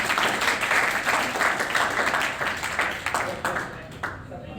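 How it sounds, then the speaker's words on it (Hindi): Schoolchildren at a road safety month event clap together in a steady, dense wash of applause that tapers slightly toward the end, with some talking mixed in. "बच्चों एक बार ताली बजाओ"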